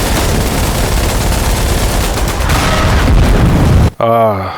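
Dense, loud gunfire and explosions from a tank squad in a war video game, a continuous barrage of rapid shots and booms that cuts off abruptly, followed by a brief voice.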